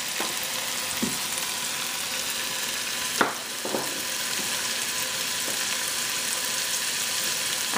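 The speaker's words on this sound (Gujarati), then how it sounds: "તો આપણું લસણ આદું ફાઇન રીતે અહીંયા રંધાય છે" Minced garlic and ginger sizzle steadily in oil in a pan, a continuous close frying hiss with a few faint pops and one brief sharper crackle, no talking.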